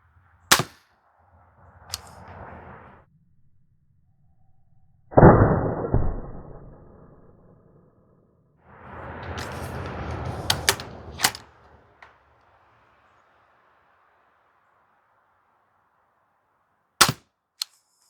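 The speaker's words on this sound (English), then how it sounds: "Here is how we cock this thing. Trip the lever." Sharp mechanical clicks and snaps come from a Steambow compact crossbow with 75-pound limbs being cocked by its lever, with a loud clatter and rattle midway, scattered sharp ticks, and quiet gaps between.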